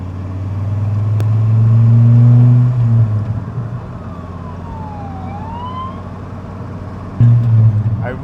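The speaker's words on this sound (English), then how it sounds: "Cops and sirens." A police car siren wails at night, heard from inside a Dodge Viper cruising a road, rising and falling in a long sweep over a loud low engine rumble.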